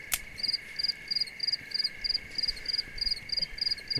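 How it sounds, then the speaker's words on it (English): Cricket chirping ambience in the video game The Long Haul, with regular pulsed chirps repeating about twice a second over a steady high tone and a faint background hum. "Okay, I think that's a quieter cricket now."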